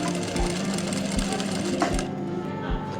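A sewing machine stitches along a folded fabric edge while sewing a half V neck, a steady close mechanical whir with regular thumping needle strokes and a faint voice underneath.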